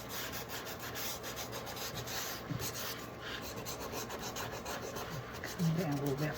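Quiet, steady rubbing and rasping as the edges of a 2x4 wood candle block are distressed, a continuous soft scraping with a few brief louder scuffs near the end.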